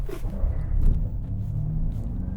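A Ford Mach E GT Performance Edition pulls away from a standstill as a low, steady electric rumble with road and cabin noise, fairly quiet and even, no engine note.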